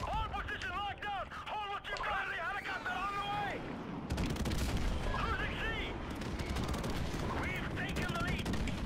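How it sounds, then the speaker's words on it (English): Heavy gunfire rattles under whistling, chirping sounds before a loud airstrike blast hits midway in Call of Duty Modern Warfare Remastered, followed by continued rumbling explosions and rapid machine-gun fire. "Oh, I got an airstrike, I forgot."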